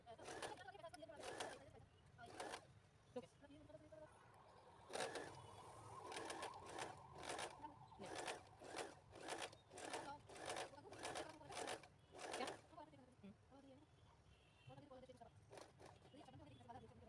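A sewing machine stitches a newborn baby cap in short whirring runs with pauses, fairly close, while a pigeon coos softly in the background.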